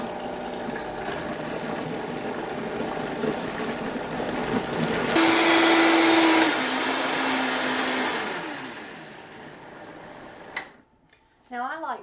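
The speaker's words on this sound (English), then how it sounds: "So we are going to now puree some of this." A kitchen blender purees stewed roasted tomatoes on a low setting, a steady motor whir that rises louder in the middle and then winds down to a stop, with a person talking briefly over it.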